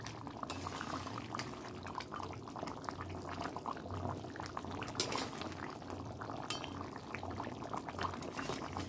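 Fish simmering in a cooking pot with potatoes, a faint continuous bubbling and gurgling hiss close by, with occasional soft clinks, and no talk.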